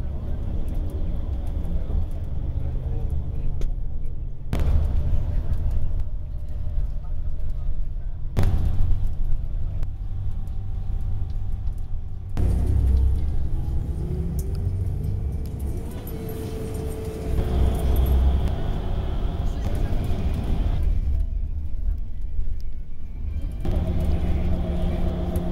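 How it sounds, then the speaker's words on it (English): Traffic rumble at a sunny bus station in Karlovy Vary, with buses and cars passing close by in broad low-pitched swells, engines idling and moving, and a voice talking over parts of it. "Aha, this is the bus station."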